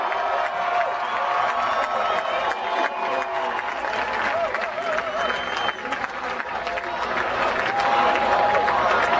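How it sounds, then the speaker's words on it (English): A political rally crowd applauds and cheers loudly, dense clapping mixed with whoops and shouts that hold steady throughout, with some voices rising above the din. "Let's give a loud round of applause."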